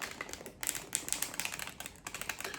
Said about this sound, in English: Just a quick shuffle.